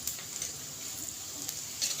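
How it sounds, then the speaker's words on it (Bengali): Onions dusted with turmeric fry and sizzle in a pan for egg fried rice, a soft continuous crackle with faint stirring scrapes. "আর একটু ভেজে নিচ্ছি পেঁয়াজটা"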